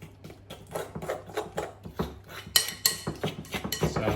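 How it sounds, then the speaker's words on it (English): Egg being mixed into stringy melted cheese in a bowl: quick, irregular clinks and scrapes of a utensil against the bowl, fairly close and moderately loud, with no talking. "And then give that a good old mix."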